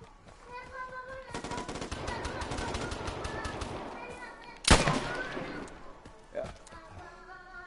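Automatic gunfire in the free-to-play game Vigor on PS4, a sustained rattling burst followed by a loud sharp blast and a smaller shot, with a voice talking over it.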